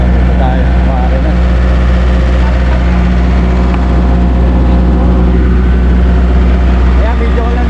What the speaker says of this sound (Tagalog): ito pala yung makina